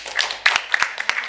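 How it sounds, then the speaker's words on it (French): An audience at an evening contemporary African art talk gives brief scattered clapping for the event technicians, a short spatter of applause in a room. "Je voudrais aussi qu'on les applaudisse si possible."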